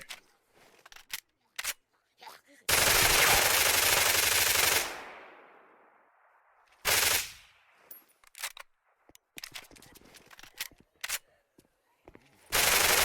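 Bursts of MP5 submachine gun fire in the zombie survival game Dead Matter, a long loud automatic burst and a shorter one later, set among quiet clicks and handling noises.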